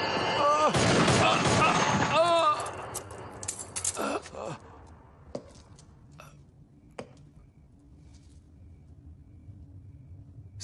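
A rapid burst of gunfire crackles loudly in the first few seconds, then gives way to scattered sharp impacts and clatter that fade into quieter room tone.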